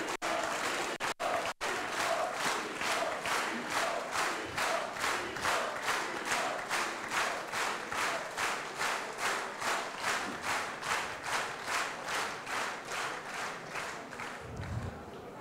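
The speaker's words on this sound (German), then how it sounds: "Wir kommen aus dem Klatschen heute nicht mehr raus" A rally crowd applauds in a steady rhythmic clap, unison beats repeating evenly for over fifteen seconds, loud and sustained without talk over it.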